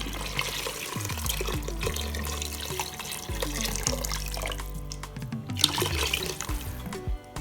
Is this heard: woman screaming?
no